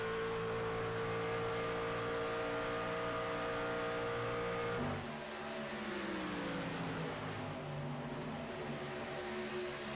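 Race cars in a stage race at Atlanta roar loudly and continuously with steady engine drone, then a sharp shift around the midpoint as the pitch falls away like a car passing close by, followed by more engines at full throttle.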